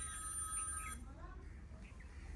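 A mobile phone rings faintly with a tonal electronic ringtone that cuts off after about a second, leaving quiet low background noise.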